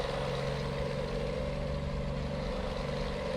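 Custom Kenworth W900 truck engine idling heard from inside the cab, a steady low droning rumble with a constant hum, unbroken and free of speech.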